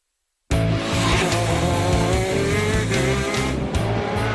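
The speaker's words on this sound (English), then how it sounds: "This Italian-made racing kart, with its one-cylinder 125cc engine, reaches speeds of 180 kilometers per hour." An Italian-made racing kart with a one-cylinder 125cc engine roars in suddenly after a half-second of silence, then holds a loud, continuous, buzzing drone close by.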